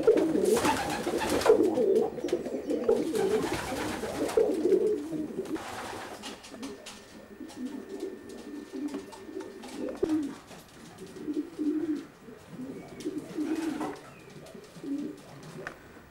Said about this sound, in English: The birds have got lovely fresh air and plenty of space.